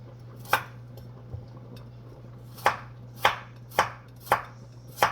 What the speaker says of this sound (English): I cut my carrots in round slices